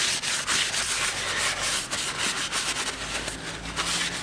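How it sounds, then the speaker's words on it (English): Brake cleaner is sprayed onto a car's front brake disc rotor, a loud continuous close hiss with slight fluttering, steady throughout and with no voices. "Give the rotor a good clean."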